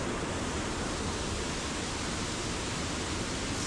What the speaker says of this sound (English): that sound of the gushing waters